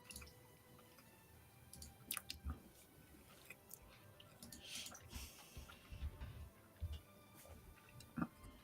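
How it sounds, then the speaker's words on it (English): Someone chews food close to a microphone, producing soft irregular wet clicks and squishy mouth sounds scattered over a quiet background. "You guys hear me chewing?"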